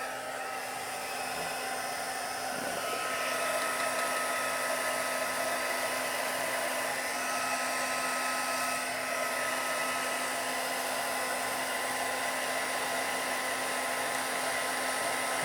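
A heat tool blowing hot air to dry ink in paper crafting, a steady loud whirring hum with a high whine that runs continuously without letting up.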